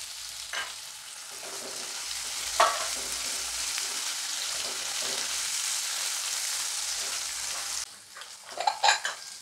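Chopped onion fries in a pan with a loud, steady sizzle under repeated stirring scrapes, then the hiss drops away near the end, leaving a few clattering knocks of the utensil.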